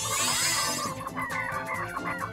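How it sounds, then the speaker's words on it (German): Chickens clucking in the Ratchet and Clank video game, a dense, continuous burst of fowl calls over layered game sound, loud and close throughout. "Sag mal, ist das hier ein Hühnerstall?"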